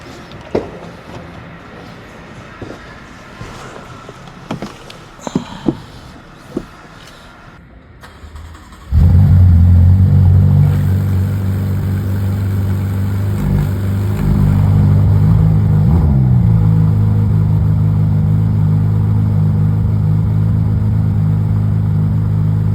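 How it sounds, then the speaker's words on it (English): A Ferrari F8 mid-engine V8 cold-starts abruptly after quiet handling noises, settling into a loud, steady high idle with a deep droning rumble that shifts and rises slightly partway through, heard alone close by. "I'm gonna do a quick startup on the vehicle so you can actually hear how it sounds like."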